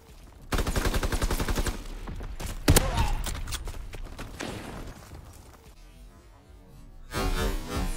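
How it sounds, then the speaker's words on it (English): Shotgun blasts and rapid gunfire in a Call of Duty match, a dense, loud burst of shots followed by a heavy crack and more firing, with game sounds continuing between volleys. "jumping back down and blasting him in the face with a shotgun"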